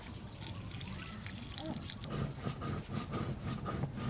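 Water trickles and splashes in a kitchen as food is rinsed under it, a steady close run of pouring and dribbling that carries on for a few seconds with faint background noise.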